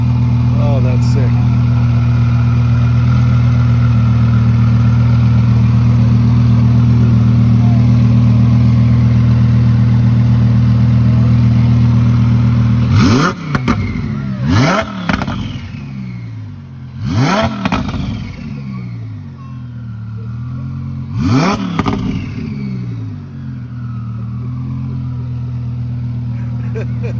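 A Weistec Stage 1 twin-turbo Audi R8 idles with a deep, loud drone, then revs sharply four times in quick succession before settling back to a rumbling idle. Voices talk around it.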